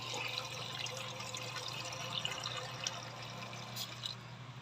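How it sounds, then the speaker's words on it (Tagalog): Water running steadily into a cooking pot for boiling yellow corn, a continuous close splashing fill with faint dripping over a low hum, no talking. "lagyan ng tubig"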